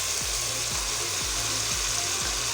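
Masala spices roasting in a pan for aloo qeema: a steady, close sizzle with a soft low thump repeating about every half second, no voices.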